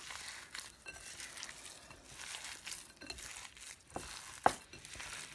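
Meatloaf ingredients mixed by hand in a bowl: soft, wet squishing and stirring sounds, close and quiet, with a few sharper slaps of the mixture, and no one talking.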